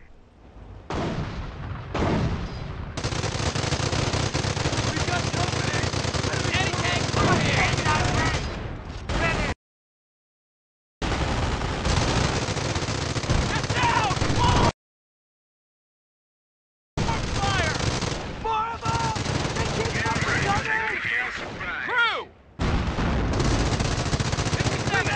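Gunfire in the war strategy game Company of Heroes 1 on the Hebecrevon mission, dense rattling bursts of rifle and machine-gun fire with booming impacts and shouted unit callouts, cut by two abrupt silent gaps.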